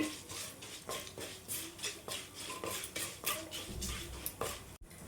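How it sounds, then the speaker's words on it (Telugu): Asafoetida being stirred into a tempering in a pan for ajwain-leaf rasam, giving faint repeated scraping strokes of a spoon against the pan in a steady rhythm, with a light background sizzle. "ఇప్పుడు ఇది మంచిగా కలిపేసుకోవాలండి, మొత్తం వేగినంత వరకు కలిపేసుకోవాలి."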